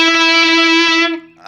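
Electric guitar driven by an eBow, a single loud, smooth sustained tone with no pick attack that holds steady and then cuts off abruptly, very close and harsh in level.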